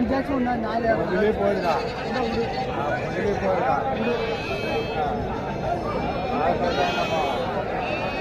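Sheep bleating over and over at a crowded goat market in Kambainallur, several animals calling near and far amid busy crowd chatter and people talking.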